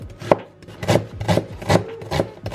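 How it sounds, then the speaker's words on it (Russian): A knife chops onion into small cubes on a cutting board in about five firm, evenly spaced strokes, each with a short scraping rasp, close and clear. "лук тоже нарезаем мелким кубиком"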